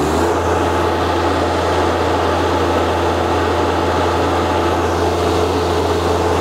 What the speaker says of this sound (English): Now I'm gonna try the hand throttle. When I go full throttle,